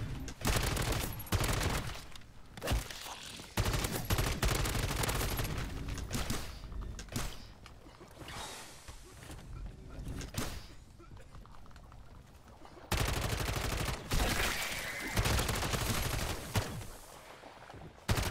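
Gunfire in Call of Duty MW3 Zombies: dense, sustained bursts of rapid shooting with brief pauses and a quieter stretch, loud and close, with game effects mixed in and no clear talking.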